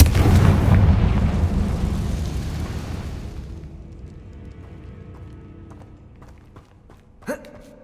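A Confringo spell explosion in Hogwarts Legacy: a loud, deep blast that rumbles and slowly decays over several seconds, followed by a faint sharp impact near the end.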